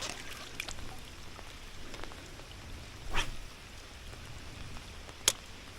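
Rain falls steadily on a swamp or creek during crappie bobber fishing, a soft constant patter with a few sharper drips and taps standing out.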